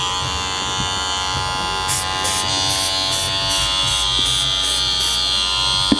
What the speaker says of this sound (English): I've made sure this has got the bevel blade again, turn it on. The fade, as you'll notice, sounds different